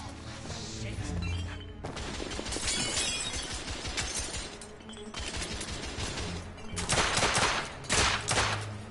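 Gunfire in the video game The Order: dense bursts of shots and crashing impacts fill the whole stretch, loud and continuous, with heavier volleys near the end.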